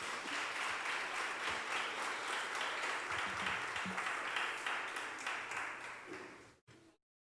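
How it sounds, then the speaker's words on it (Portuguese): A church congregation claps together in sustained, dense applause that holds steady for several seconds, then thins out and cuts off abruptly near the end. "Pode aplaudir ao Senhor."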